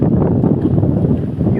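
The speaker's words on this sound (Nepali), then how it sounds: "हावा सररररर आइरहेछ" Strong wind gusts right beside an open ground, buffeting the microphone in a loud, low rumbling rush.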